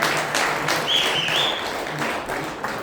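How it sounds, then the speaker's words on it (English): Applause for Dave Levesque at a Rhode Island League anniversary dinner, a room of people clapping steadily at moderate volume, with a faint whistle partway through. "Let's give Dave Levesque a round of applause"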